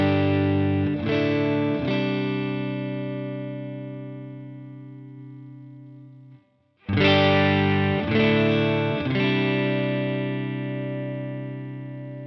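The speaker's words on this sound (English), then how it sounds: "I just want to demonstrate this bloom button" Electric guitar chords ring out through a Boss Katana Gen 3 amp head with its bloom button on, strummed in short groups with sustained, slowly fading tails and a brief pause midway.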